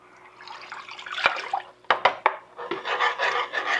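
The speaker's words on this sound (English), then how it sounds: "I'm going to pour that in there now" Liquid pours into a saucepan close up, a steady splashing stream broken by a few sharp clinks of metal on metal.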